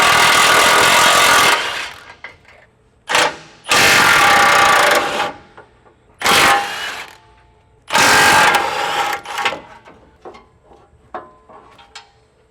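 A powered ratchet driver with a 17 mm socket spins off crash bar bolts on a Nissan Frontier pickup, in several loud bursts of whirring and ratcheting separated by pauses and lighter clinks.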